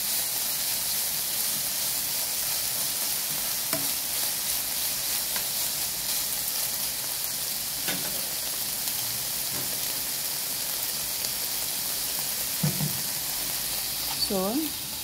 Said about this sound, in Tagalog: Hindi ko na nilagyan ng oil ko kasi natabaka ang ating bacon.